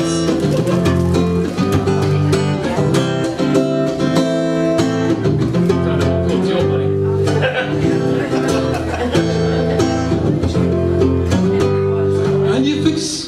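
Indie rock plays loud and dense throughout, with driving guitars, bass and drums keeping a steady rhythm and no pause.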